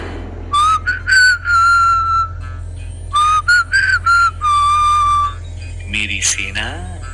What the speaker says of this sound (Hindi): फिर धीरे धीरे सीटी बजाते हुए कहा